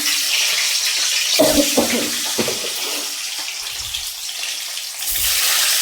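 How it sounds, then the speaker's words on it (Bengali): Eggs fry in a pan with a steady, close hiss and sizzle throughout, broken by a few clanks of a utensil against the pan. "তো ডিমটা একটু ভাজা ভাজা করে নেবো"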